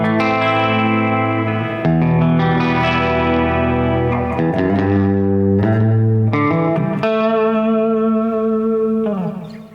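A clean electric guitar strums and picks chords, its tone shimmering with chorus and trailing delay echoes, loud and continuous.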